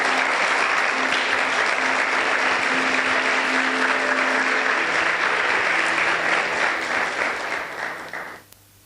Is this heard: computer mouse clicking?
no